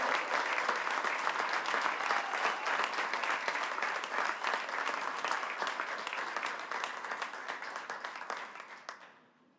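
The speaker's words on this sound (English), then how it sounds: "Everybody, please give a huge round of applause for Cole Ball." A large crowd at a Nashville SC Unified Team event applauds loudly and steadily for nearly ten seconds, the dense clapping slowly thinning and fading out at the end.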